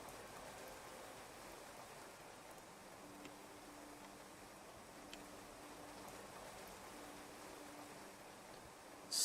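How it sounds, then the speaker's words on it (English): Rain falls steadily in the Clanfolk video game, giving a soft, even wash of hiss that runs faintly and unbroken throughout with no voices. "Rain is pretty strong now."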